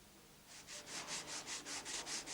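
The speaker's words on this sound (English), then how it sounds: "Start sanding with P80 dry on the body filler" Rhythmic dry sanding of body filler with P80 abrasive paper, steady back-and-forth strokes rasping at an even pace, close and moderately loud.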